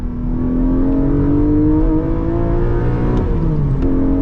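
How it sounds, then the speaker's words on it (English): A manual 2024 Porsche Cayman GTS 4.0 engine revs hard and climbs through the gears, its exhaust droning with a rising intake whine, loud and close. "You hear the exhaust, and then you hear the intake"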